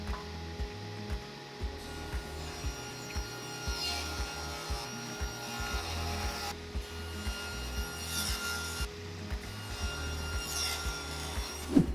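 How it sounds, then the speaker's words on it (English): A wooden leg blank has its sharp edges shaved off toward an octagon before lathe turning, making steady rhythmic rasping strokes, close and moderately loud, with a low machine hum running underneath. "Removing the sharp edges of the blank just saves a good bit of time at the lathe."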